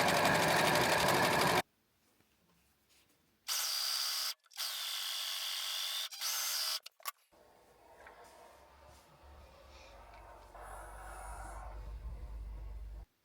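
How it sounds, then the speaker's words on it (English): An overlock sewing machine threaded with grey yarn runs in loud, dense mechanical bursts stitching a jumpsuit seam, stopping and restarting several times before quieter handling and a low hum take over. "I'm using grey yarn for the overlock."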